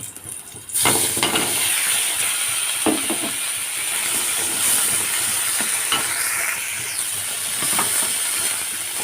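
Bilimbi (irumban puli) tipped into a hot pan for a chammanthi: a sudden loud sizzle that holds as a steady, hissing fry, with occasional stirring scrapes.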